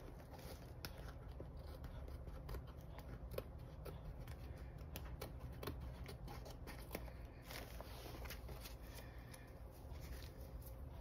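Scissors snip along the edge of a sheet of paper, giving a quiet run of short, crisp cuts and rustles up close.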